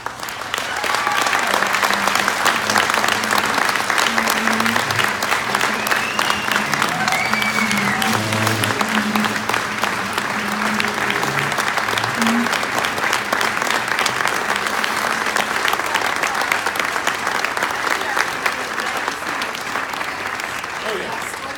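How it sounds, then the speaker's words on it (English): An audience at an ovarian cancer awareness event gives long, sustained applause, a loud, dense roar of clapping lasting over twenty seconds, with cheering and voices mixed in. "another round of applause for one of the strongest women"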